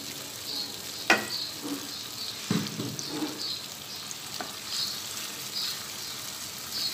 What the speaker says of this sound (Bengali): তেলের সাথে বাটা মশলাগুলো ভালোভাবে একটু 2-3 মিনিট কষিয়ে নিব